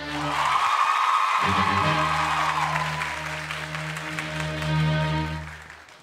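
A TV studio audience claps for twin pair number ten during a lookalike-twins contest segment. Moderate, continuous applause rises and fades over sustained background music, with a short dip early on.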